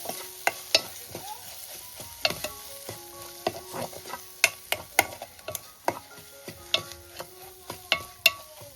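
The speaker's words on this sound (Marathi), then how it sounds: "चला मसाला मस्तपैकी परतवून झालाय." Goda masala being sautéed in oil in a pan for a Konkani fish curry, with a steady sizzle under repeated sharp clicks and scrapes of a spoon against the pan, close and clear with no talk.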